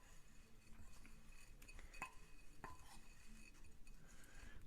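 A spoon stirs oats and blueberries in a bowl, giving scattered light clinks and scrapes against the dish. The sounds are near and fairly quiet over a steady background, and no one speaks.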